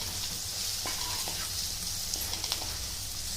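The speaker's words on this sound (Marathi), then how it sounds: "हे पूर्ण सुके मसाले आपण त्यामध्ये टाकणार आहे आणि छान ह्याला पण तेलामध्ये परतून घ्यायचे" Dry spices such as turmeric and chilli powder being sautéed in hot oil for a dal-onion dish, giving a steady soft sizzle with a few light scraping stirs, close and even throughout.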